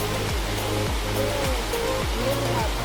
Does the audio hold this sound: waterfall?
yes